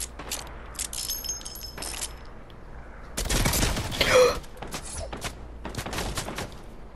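Scattered gunshots from a Wild West video game, a mix of single cracks and a denser burst of fire in the middle, with a voice talking in between.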